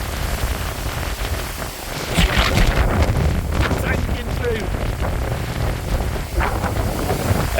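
Strong wind gusting over the River Severn during pike fishing, buffeting the microphone in a continuous rough roar that swells and eases, with a voice speaking over it.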